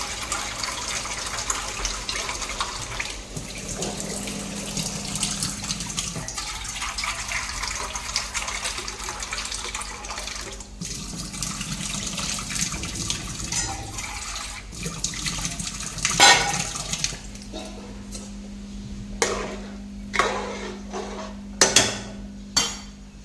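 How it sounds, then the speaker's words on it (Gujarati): Water added to a vegetable curry in a village kitchen, a long continuous pouring and gushing sound at close range, followed by a few sharp knocks near the end, no talking. "પાણી એડ કરવું"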